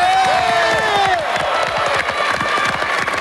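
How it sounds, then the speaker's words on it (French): A studio audience at a French television game show claps and cheers for the blue team, a dense, loud wash of applause with whoops and shouts running throughout. "Applaudissements pour les bleus"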